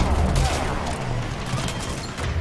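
Enemy gunfire in Mass Effect 3 rattles as dense, continuous bursts of shots and booms, loud and close, with a voice speaking under the barrage.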